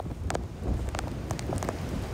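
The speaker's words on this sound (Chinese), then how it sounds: "欸，下雨了" Rain begins pattering outdoors during a typhoon in Kaohsiung, a brief, rough wash of drops mixed with gusty wind buffeting the microphone.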